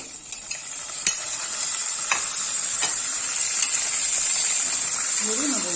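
Butter melts into a pan of peas with a bright, steady sizzle, a few sharp utensil taps over it and a voice speaking briefly near the end.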